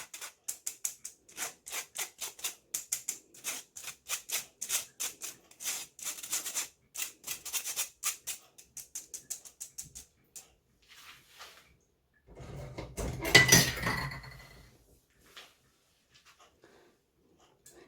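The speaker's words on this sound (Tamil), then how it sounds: "இந்த பேக்கிங் பவுடர் மா எல்லாம் ஒன்றுக்கு மிக்ஸ் ஆகிற மாதிரி நல்லா மிக்ஸ்" Rava cake batter with baking powder mixed by hand in a bowl, giving a close, steady run of quick scraping strokes that thin out, then a louder rough burst of stirring before it goes quiet.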